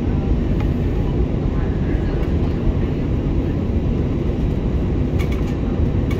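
A small propeller airplane's engine drones steadily and loud through a takeoff roll in clouds, a dense broadband roar inside the cabin with faint voices under it.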